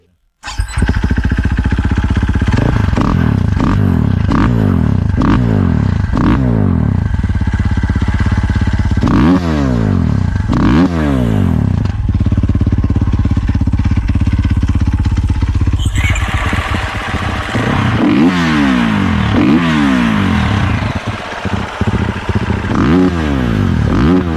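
A 350 or 450 motocross bike engine runs loudly up close, blipped repeatedly with sharp revs rising and falling over a rough, popping idle.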